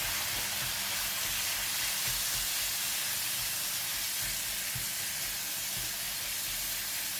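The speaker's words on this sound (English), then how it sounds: "Add in all of the minced pork. Use the spatula to spread all over the oil and the pan." Minced pork frying in an oiled pan, spread around with a spatula, producing a loud, continuous close hiss and sizzle with occasional soft scrapes beneath it.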